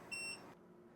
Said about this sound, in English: the turning the unit on and the turning the unit off, that beep is probably one of the more annoying things